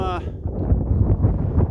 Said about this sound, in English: boy, it's getting more and more windy here.